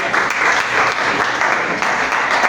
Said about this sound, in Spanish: Recibimos la palabra con un fuerte aplauso